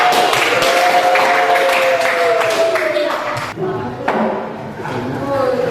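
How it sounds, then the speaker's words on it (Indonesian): Students in a classroom clap their hands in a lively burst of applause that thins midway and then picks back up, with voices talking over the clapping. "tepuk tangan dong kali"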